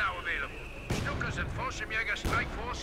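Artillery shells land in a Company of Heroes 2 match: two sharp, booming impacts about a second and a half apart, moderately loud, under steady commentator speech.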